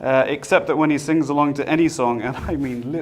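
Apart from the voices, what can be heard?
No everyday noise stands out behind the speech.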